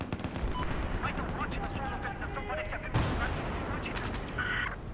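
Gunfire in the shooter game Battlefield 4, a steady spread of distant-sounding shots and bursts running throughout, with one sharper blast near the middle, beneath players talking.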